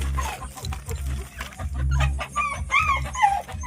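A native Kerala country hen clucks nearby in a short run of repeated clucks and calls, with low background rumble.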